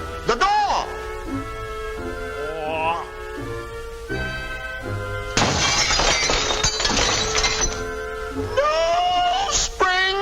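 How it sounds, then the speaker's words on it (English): Window glass shatters in a bright, sustained crash that rings and tinkles for a couple of seconds, framed by voices talking over music before and after. "I hate it when my windows shatter because they're not made of springs"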